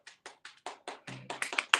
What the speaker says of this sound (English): everybody clap if they think that he's the winner